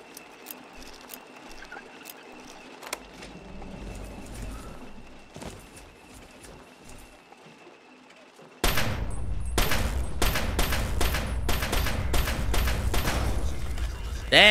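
Gunfire from a Chinese pistol in Fallout 3: after a quieter stretch with a few isolated shots, a rapid loud burst of repeated shots rings out in quick succession, with a voice speaking underneath.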